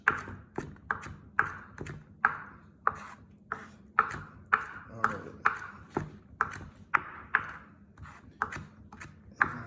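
A knife chops parsley on a cutting board in steady, evenly spaced sharp knocks, about two per second, close and clear, with a voice murmuring softly underneath.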